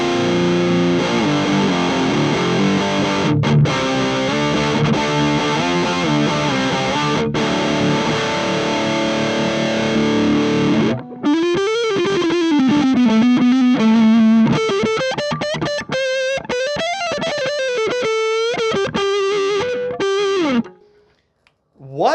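An electric guitar plays through a drive pedal on its lower gain setting, first as dense sustained overdriven chords, then as a fast, bending single-note lead line, loud and close with no talking.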